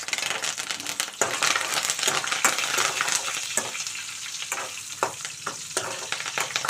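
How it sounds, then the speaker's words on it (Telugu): Curry leaves and green chillies crackle in hot tempering oil, a loud close sizzle with sharp pops and repeated scraping and clinks of a spoon stirring the pan. "ఇప్పుడు కొద్దిగా కరివేపాకు అయితే వేసుకుందాము కొంచెం కరివేపాకు"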